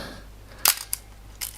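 A Yashica FX-3 film camera fires its vertical shutter: one sharp mechanical clack followed by a smaller click, then another soft double click near the end, close and crisp in a quiet room.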